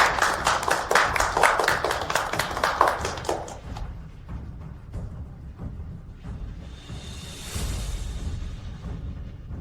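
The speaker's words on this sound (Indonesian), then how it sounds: "Mari sambut dengan tepuk tangan" An audience at an acquisition signing ceremony claps to welcome a company director on stage. A brisk, rhythmic burst of hand claps lasts about four seconds, then fades into quieter room noise and scattered taps.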